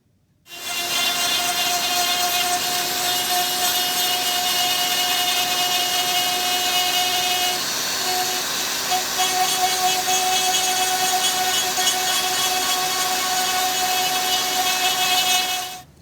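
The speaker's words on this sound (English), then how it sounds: "I've used this fairly coarse burr just to sketch the thing out to start with" A rotary tool fitted with a coarse burr carves an oak cuckoo clock carving. It gives off a loud, steady high-pitched whine and grinding close by, running continuously for about fifteen seconds without a break.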